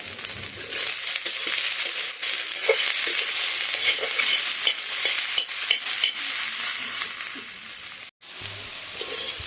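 Spicy boneless meat and soybean slowly frying on low heat in a pan, a continuous near sizzle broken by repeated stirring scrapes and taps, with a brief dropout near the end and no voices.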